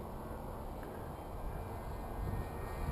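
A close-quarter FPV RC plane, the Diablo fitted with landing gear and running a 4-cell battery, drones steadily overhead in a continuous low, rough motor hum that grows slightly louder toward the end.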